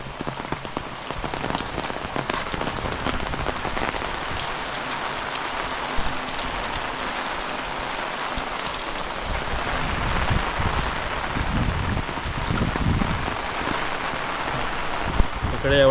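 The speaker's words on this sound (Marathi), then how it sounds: "एकदम जोरदार असा पाऊस पडतोय" Heavy rain pours down during a windy storm in a Konkan village, a dense, continuous patter and hiss of drops striking surfaces, steady and close for the full duration with slight swells toward the end.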